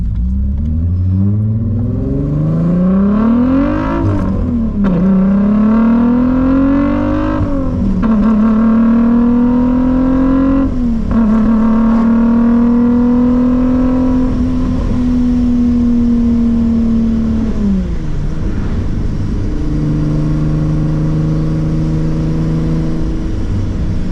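A 12-valve VR6 engine with Techtonics 288 camshafts, swapped into a Mk2 car, idling, then revving up in several smooth rises and falls, a loud, close mechanical drone throughout.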